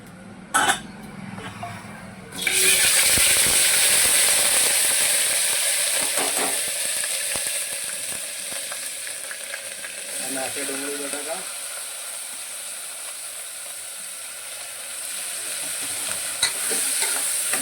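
Ginger garlic paste and asafoetida fry in a hot pan with a loud, steady sizzle that swells as the paste goes in, while a spoon stirs and scrapes now and then, close up and without speech.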